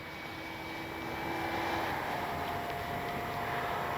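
A CNHL Super Tucano RC airplane does a touch and go. Its electric motor gives a steady, fairly loud whine with a tonal hum that swells slightly as it passes, and no one talks.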